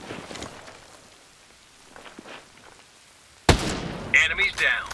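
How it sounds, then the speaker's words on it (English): In the video game Ghost Recon Breakpoint, a sudden loud gunshot blast cuts through quiet ambience, followed by further sharp gunfire and echoing shots. "I hear gunfire."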